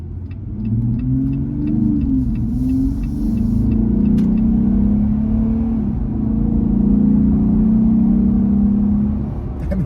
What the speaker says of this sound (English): it gives you that nice throaty sound when you get on the pedal